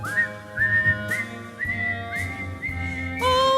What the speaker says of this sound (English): This is the part where you join me in whistling.